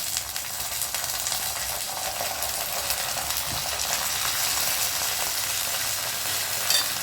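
Garlic fries in a pan with vinegar added, giving a steady, close, even sizzle that crackles continuously. No voices are heard.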